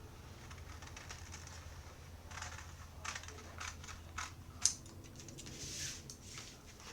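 Scissors cut out a paper dress pattern, sounding as soft, scattered snips and paper rustles at low volume over a faint background hum.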